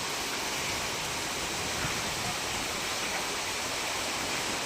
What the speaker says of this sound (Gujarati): ધોધમાર વરસાદ વરસ્યો અને ધોધમાર વરસાદની સાથે પવનની ગતિ પણ તેજ થયેલી જોવા મળી